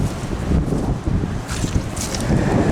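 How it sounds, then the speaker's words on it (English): Strong wind gusts outdoors at a farmyard beside a JCB, roaring and buffeting the microphone with steady low rumble and rising gusts, loud and close, with no talking. "Oh, it's so windy out here."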